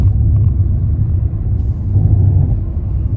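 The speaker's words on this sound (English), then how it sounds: "So I'm just going along the road with cruise control set to 30" A car travels along the road on cruise control at 30, its steady low interior rumble and road noise continuous and fairly loud throughout, with no talking.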